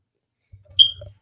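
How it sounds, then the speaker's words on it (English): A single high, short chirp from a smoke detector signalling a low battery, sounding once in a quiet room over a faint low rumble. "is somebody's smoke detector needing a battery replaced?"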